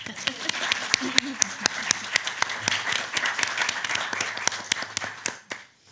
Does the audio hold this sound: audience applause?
yes